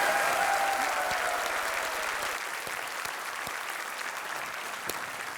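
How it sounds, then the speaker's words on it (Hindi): On the quiz show Kaun Banega Crorepati, the studio audience gives dense, continuous applause, loud at first and easing slightly after a couple of seconds while a few sharp individual claps pop through the crowd sound. "तालियां बजती रहे फातिमा जी के लिए"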